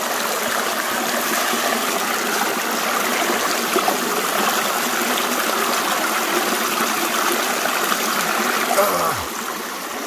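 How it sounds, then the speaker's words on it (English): A creek in the West Virginia hills flows steadily and close by in a continuous rushing, trickling wash of water that holds an even level throughout, with a faint low thump near the end. "Ain't nothing like the sound of the creek flowing"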